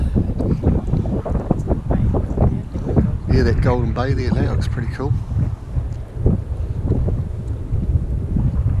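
Gusty wind buffets the microphone in a steady low rumble while a person talks over it outdoors by trees in the Catlins, New Zealand.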